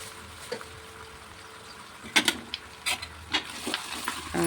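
Raw fish curry (pachi chepala pulusu) stirred in a pan with a ladle, the pan steadied with a holder: scattered scraping clinks of metal against the pan over a faint simmering hiss, growing busier toward the end.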